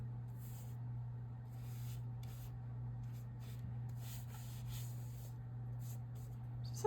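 A gel plate print being rubbed by hand onto a mixed media journal page, soft repeated brushing strokes in short bursts over a steady low background hum, close and quiet with no talking.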